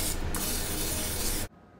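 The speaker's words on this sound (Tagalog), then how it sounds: "Cooking spray into each slot." Cooking spray hisses from a can into silicone molds in one continuous loud burst that cuts off abruptly near the end, with no voices.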